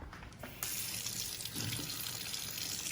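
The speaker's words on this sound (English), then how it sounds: "hot water is coming out" Hot water runs steadily from a kitchen sink faucet, a continuous broadband rush that swells louder after a brief quieter start, with no voices.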